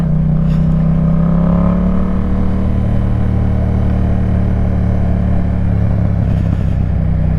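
Motorcycle engine while downshifting a gear on a ride by a lake, a loud, close, steady drone that dips and then rises in pitch over several seconds, with wind rush and no talking.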